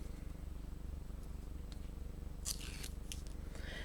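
Cheap adhesive tape has its backing peeled off in a few short crackling, tearing bursts, close and fairly quiet over a steady low hum.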